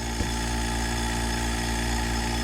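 An AC service machine hooked to a Chrysler 300 SRT8 runs with a steady, even mechanical hum that holds constant throughout, close and unbroken, with no voices.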